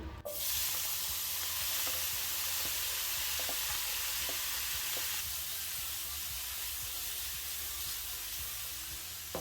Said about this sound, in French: dans la même poêle, tant que c'est encore chaud, on va pouvoir faire revenir nos fruits